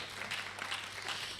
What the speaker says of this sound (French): Applaudissez les gars